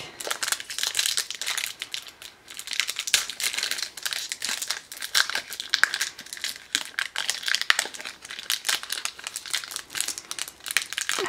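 Continuous crinkling and tearing of a foil Pokémon booster pack wrapper torn open by hand, close and fairly loud, with sharp crackles throughout and no voices.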